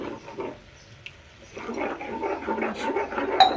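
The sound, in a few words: water poured into pea curry pan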